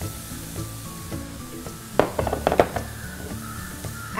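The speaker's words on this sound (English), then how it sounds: "Now you can toss in the sliced onions" Sliced onions tossed into a hot pan for Indo-Chinese Schezwan dosa filling: a low background sizzle broken by a cluster of sharp clattering knocks and crackles midway as the slices land and get stirred, then settling back to a steady hiss.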